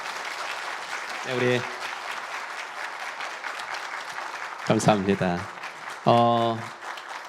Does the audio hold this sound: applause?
yes